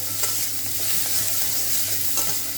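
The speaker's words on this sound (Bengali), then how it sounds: "এবার সব কিছুকে খুব ভালো মতো নাড়াচাড়া করবো" Chicken bharta being stirred in a hot pan, a continuous close sizzle with soft scraping strokes of the spoon, steady and fairly loud with no voices.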